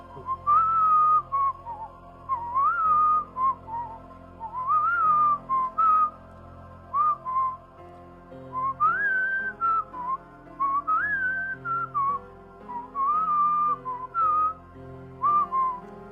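A person whistles a short melodic phrase again and again, clear and close, with brief pauses between phrases and no talking.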